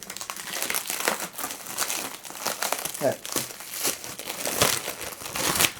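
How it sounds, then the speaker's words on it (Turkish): A tightly packed black plastic package of manga is pulled open, with continuous close crinkling, crumpling and tearing of plastic, fairly loud, while a voice talks over it. "Şu siyah paşeti açıp yolumuza"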